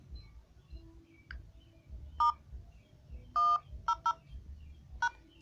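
Several phone keypad tones beep in a short irregular sequence as a code is dialed, crisp dual-tone blips over quiet room noise and soft handling clicks.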